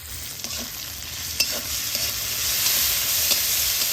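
Stirring in a wok where whole cumin, grated ginger and chopped green chili fry in white oil, a steady close sizzle with light scraping strokes of the spoon, alone without talk.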